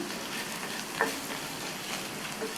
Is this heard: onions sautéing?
yes